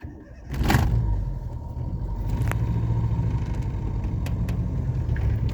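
An ordinary household car's engine rumbles steadily nearby, with a sharp clunk early on, before the run of sound fades out as the vehicle is shut off to coast downhill.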